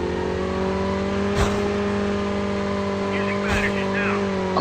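A vehicle in the Call of Duty video game driving with a steady engine drone and harmonic hum, two brief knocks and a faint revving swell near the end, fairly loud and continuous.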